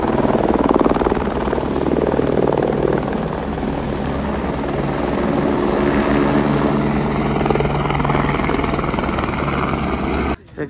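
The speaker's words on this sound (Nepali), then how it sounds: "हेलिकप्टर पनि" A helicopter flying near the high-altitude Gosaikunda lake on a mountain trek, its loud, close rotor chop and engine drone steady and continuous until it cuts off abruptly at the very end.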